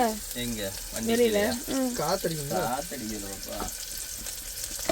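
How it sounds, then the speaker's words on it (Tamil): Brinjal kuzhambu ingredients sautéing in a pan, a soft sizzle running beneath a person talking throughout, with faint stirring sounds. "நல்லா போட்டு வதக்கவும்"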